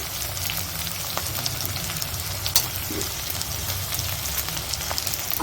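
Onion and garlic fry in refined oil in a pan, along with chillies, for a chicken dish. A dense, crackling sizzle runs steadily up close with small pops and stirring scrapes, and no one talks.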